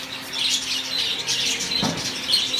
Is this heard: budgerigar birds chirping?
yes